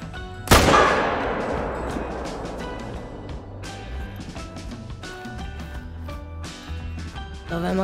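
A single loud rifle shot at a shooting range target in theHunter: Call of the Wild, a sharp close crack with a long decaying echo, followed by quieter ambient game sounds.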